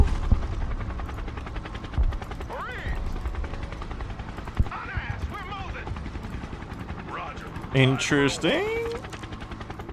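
Helicopter rotor noise from the war game Broken Arrow churns beneath bursts of gunfire and busy game effects, with a person speaking briefly over the mix.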